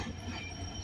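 Chitra Express locomotive at Kotchandpur railway station, a steady loud rumble with low engine drone and rail noise, close by and continuous, no talking.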